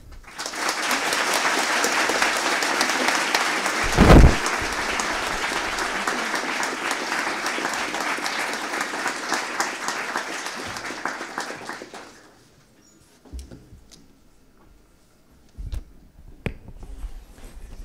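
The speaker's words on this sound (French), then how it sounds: "Je vous prie d'applaudir très chaleureusement" A conference audience gives warm applause as Fields medalist Cédric Villani is introduced, sustained dense clapping for about twelve seconds with one louder thump near the start, then fading to a quiet room with a few scattered sounds.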